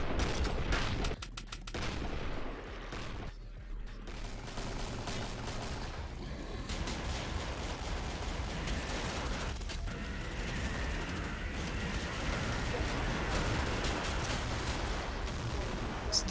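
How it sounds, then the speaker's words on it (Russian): V-94 sniper rifle fire in a video game, a dense run of heavy booming shots layered with other gunfire and rumble, loud and continuous throughout with brief dips between volleys. "Стреляю с В-94, черная такая винтовка большая, она самая мощная"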